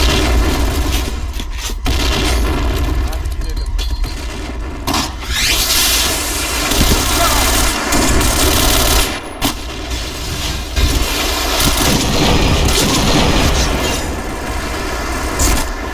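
Gunfire and blasts from the online shooter Point Blank during a clan esports match, sharp broadband bursts and booms repeating irregularly through a steady loud din, with scraping movement noise between shots.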